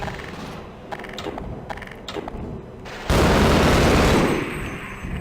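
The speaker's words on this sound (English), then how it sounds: "the assault rifle is very good for taking out the alien, the Vortigaunts" Assault rifle fire in the video game Half-Life against alien Vortigaunts, short mechanical clacks and scattered shots giving way to a dense, loud sustained burst of automatic gunfire.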